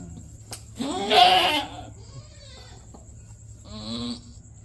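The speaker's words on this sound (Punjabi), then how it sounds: "ਬੱਕਰਾ" A goat bleats on a farm: one loud, wavering call near the start and a shorter, fainter bleat toward the end, with quiet background between.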